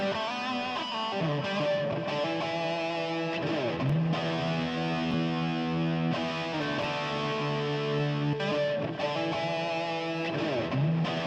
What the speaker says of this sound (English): you can hear the sound with the delay and reverb